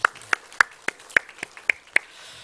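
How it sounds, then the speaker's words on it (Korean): Church congregation clapping in unison during a Sunday morning service, about eight sharp, evenly spaced claps in a quick rhythm, fairly close and clear with no voices over them. "박수로도 환영하겠습니다"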